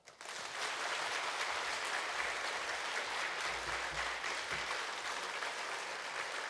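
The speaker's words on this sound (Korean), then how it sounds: "우리 환영하는 박수로 힘차게 우리 박수하면서 우리 목사님 우리 모시겠습니다" A church congregation at a New Year revival service breaks into loud, sustained applause to welcome the pastor, dense steady clapping that starts abruptly and holds evenly.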